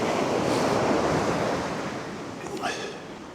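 Waves rolling onto a North Sea beach near Anderby Creek, a broad surf roar with wind buffeting the microphone, a wash that fades slightly before a brief splashy break near the end.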